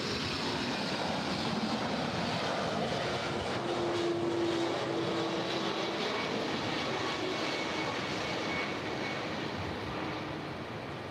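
Lufthansa jet airliner arriving at LAX, a broad steady engine roar holding loud and near for the whole stretch with a faint tonal whine in the middle, no voices.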